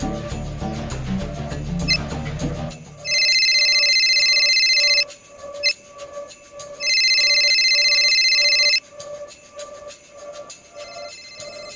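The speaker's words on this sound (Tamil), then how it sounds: "ஏய், ஃபோன் ஆடுறா." A mobile phone rings in two long, steady electronic bursts separated by a pause, loud and close, over a faint background tone with no talking.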